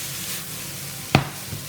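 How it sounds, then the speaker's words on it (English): Chopped onions frying in a pan for minced beef with corn kernels give a soft, steady sizzle, broken once by a sharp clink of a utensil near the end. "So now I will cook it this way for a little while, that the onions are almost done"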